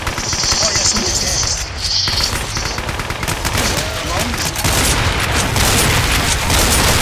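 Rapid chaingun fire from a chaingunner enemy in Brutal Doom, a dense run of loud bursts that carries on through nearly the whole stretch, thick with other explosive game noise and only a brief dip near the middle.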